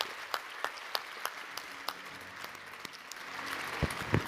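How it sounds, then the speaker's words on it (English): Audience applause closing a finance panel discussion at a technology conference, a steady patter of claps with sharper individual hits, moderately loud across the room and swelling slightly toward the end. "So big round of applause."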